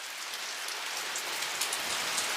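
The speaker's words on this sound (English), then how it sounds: "we run through rain and wind" Steady rain and cold drizzle falling on the Appalachian Trail near a shelter toward Harpers Ferry, a continuous even hiss of drops on surfaces, close and unbroken, with no voices.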